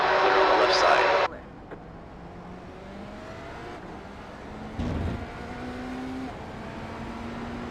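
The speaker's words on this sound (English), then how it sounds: "There's a group of slower cars ahead. This is where all the GT3s are," GT3 race cars droning through a Daytona 24 endurance race in a racing video game, a loud burst of engine noise at the start giving way to a steady, quieter hum of several cars with rising tones passing by.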